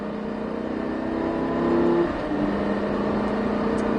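A race car accelerates on a track circuit in Haut Saintonge, a steady loud engine drone that rises briefly in pitch partway through and then holds, with no voices.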